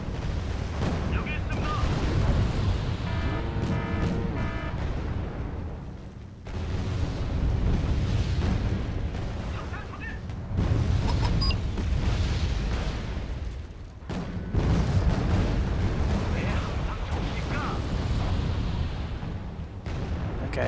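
Anti-aircraft units firing in the Wargame Red Dragon video game, a dense rumbling barrage of booms and blasts that rolls on continuously in long waves with brief lulls, with a voice talking over it at times.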